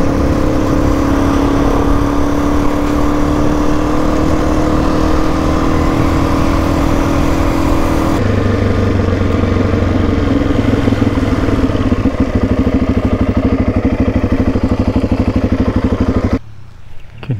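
A motorcycle engine drones continuously on a rough outback road in Cape York, loud and close, with a shifting pitch as it nears, then cutting off abruptly at the end.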